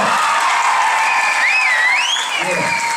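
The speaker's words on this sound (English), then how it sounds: "Give yourselves a real round of applause." School students applaud in a middle school gathering, a steady dense wash of clapping and cheering filling the room, with shouted voices and whoops rising over it.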